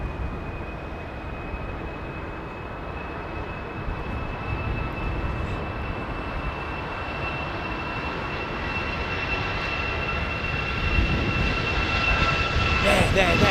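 A TAROM airliner with CFM56 engines arrives with a steady jet rumble and a thin sustained whine, growing gradually louder toward the end, while faint talk can be heard under it.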